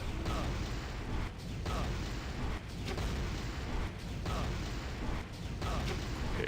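A continuous roar of rumbling blasts from the video game Dead Cells fills the scene, loud and dense, with brief dips every second or so as explosions repeat.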